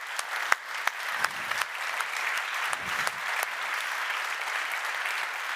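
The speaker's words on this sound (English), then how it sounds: "The biggest applause and thank you goes to Bastian and Bernhard" Audience applause at a tech conference, with a large crowd clapping steadily in a sustained wash, a few sharper claps standing out near the start.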